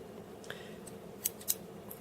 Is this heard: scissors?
yes